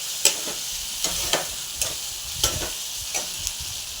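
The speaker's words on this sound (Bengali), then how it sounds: "পোস্তটা অ্যাড করে একটু কষিয়ে নেব।" Poppy seed paste being sautéed in a pan for aloo posto, a steady soft sizzle broken by a string of sharp spatula scrapes and taps, close and moderately loud with no talking.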